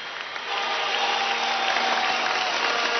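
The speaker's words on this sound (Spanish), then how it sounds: "Un aplauso desde la cúpula del Poliedro de Caracas." Audience applause fills the Poliedro de Caracas arena during a Misión Ribas graduation ceremony, a dense, steady wash of many hands clapping that swells after a brief softer start and holds loud throughout.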